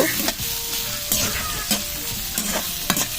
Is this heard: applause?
no